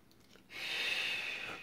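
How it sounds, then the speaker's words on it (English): A single soft, drawn-out shh of breath pushed through pursed lips and tongue during a low back rehabilitation exercise, lasting about a second after a quiet start. "out through the mouth, through pursed lips and tongue"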